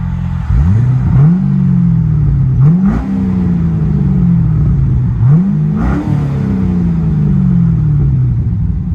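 A 2005 Chevy Corvette 6.0L V8 with dual exhaust and Carven R Series mufflers revs repeatedly, deep rumbling swells rising and falling several times, loud and close, from a throaty idle.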